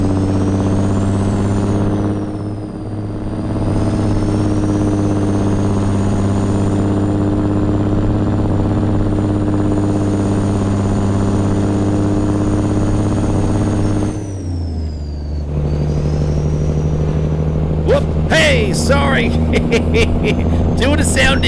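A modded Cummins N14 truck engine in a video game idles with a deep, steady drone through straight pipes, shifts down in pitch midway, then continues as short bursts of talk come in near the end.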